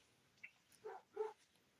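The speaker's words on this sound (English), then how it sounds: "The puppies are barking, doing their job." Dogs on a rural property bark at a passing car: a couple of faint, short yips come from some distance in a quiet setting.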